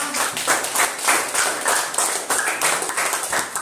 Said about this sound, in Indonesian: tepuk tangan untuk tanya